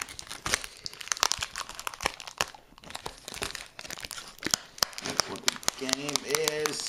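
Taped packaging on a Famicom Disk System game is torn open with loud crinkling, ripping bursts close by, while a person talks over the sound.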